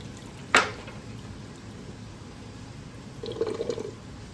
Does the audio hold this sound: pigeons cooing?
no